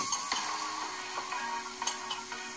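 Vegetables sauté in hot vegetable oil already used to fry halibut, a steady close sizzle with light stirring scrapes and a few ticks, no talk.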